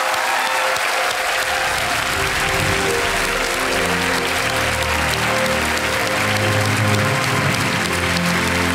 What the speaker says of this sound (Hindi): तालियों के साथ स्वागत किया जाए